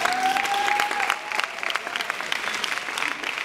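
Audience at a German youth literature prize ceremony applauding, a dense, steady clapping that fills the room throughout, with a brief tonal sound near the start.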